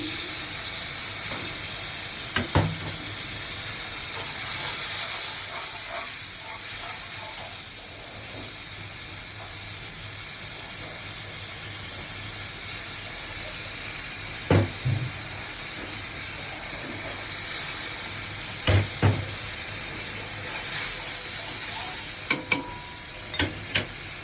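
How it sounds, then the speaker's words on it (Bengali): Mango pickle goes into spice masala being fried in a pan for a big fish curry, giving a steady hiss and sizzle with occasional scraping clinks of stirring, no voices. "এবার আমি মশলা কষানোর ভিতরে আমি আমের দিয়ে দেবো।"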